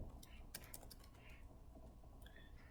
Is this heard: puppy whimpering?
no